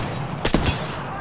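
Video game gunfire bursts out as a short, sharp volley of a couple of close shots, then fades into low background noise.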